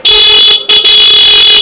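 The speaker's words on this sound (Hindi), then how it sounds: "इसके अलावा इसमें हॉर्न भी लगा रखे हैं" A horn fitted on a modified TVS Raider 125 motorcycle blares loud and close in a bright, steady tone, cutting off briefly in the middle before sounding again without any talk.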